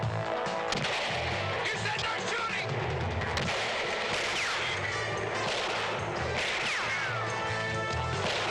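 A gunshot in a 1971 police drama, a sharp crack within a busy, loud mix of clatter and crashing, with voices present in the scene.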